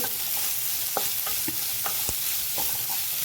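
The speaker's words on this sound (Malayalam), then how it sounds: "കടുക് പൊട്ടി കഴിഞ്ഞാൽ ഉടനെ ബാക്കിയുള്ള സാധനങ്ങളൊക്കെ വേഗം ഇടാം" Mustard seeds splutter in hot oil for tomato rice, a dense close sizzle carrying scattered sharp pops and crackles at irregular intervals, with no talking.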